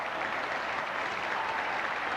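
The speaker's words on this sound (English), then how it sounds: "gets good sporting applause, as of course he should" Crowd at a men's field hockey World Cup semi-final, England versus West Germany in 1986, gives sporting applause: steady, dense clapping from a large audience, held at an even level throughout.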